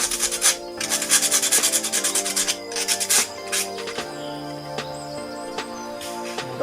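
Rapid back-and-forth sandpaper strokes scrape against a coconut shell, a rhythmic rasping that pauses briefly, with a faint hum underneath.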